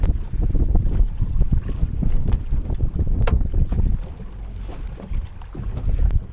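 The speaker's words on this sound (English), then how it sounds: "the wind is so strong" Strong wind buffeting a microphone outdoors on the water from a fishing boat, a constant loud rumbling roar with gusts that ease briefly before picking up again, no voices.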